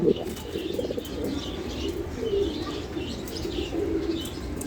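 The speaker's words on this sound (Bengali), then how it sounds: "জোড়াটা দেখেন আর নরের ডাক দেখেন আপনারা" A male racing pigeon coos softly and repeatedly beside a female, with a low, rolling murmur against faint background chirps and a brief wing flutter at the start.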